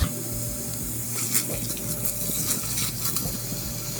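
Garlic frying in a pan for homemade golden tomato sauce gives a steady, soft sizzle with faint stirring clinks and scrapes, continuous and moderately quiet with no talking.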